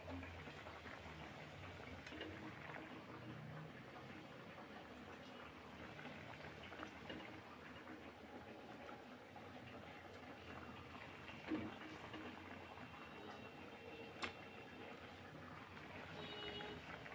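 Fish in curry gravy boiling in a pot during village-style cooking, a steady faint bubbling simmer that continues throughout with a couple of brief clicks.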